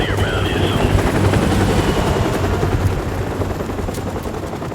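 Enemy helicopters thunder overhead in Call of Duty: Modern Warfare Remastered, a loud steady rotor chop and engine drone mixed with scattered gunfire bursts, continuous and close throughout.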